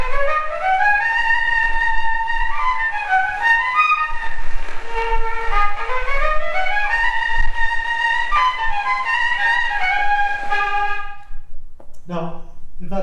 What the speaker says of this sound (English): I'll play you the tune as he recorded it, which forms the basis of the first tune in the first Violin Rhapsody